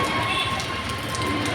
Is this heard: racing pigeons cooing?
no